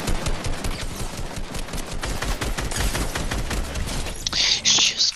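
Sustained bursts of automatic weapon fire in Fortnite creative mode, loud and rapid, rattling on continuously with a few sharper electronic game sounds near the end.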